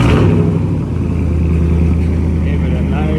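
A 2015 Ram 1500 pickup with the muffler removed and an X-pipe drones deep and throaty, loudly and continuously, rising slightly in a short rev, with voices faintly underneath.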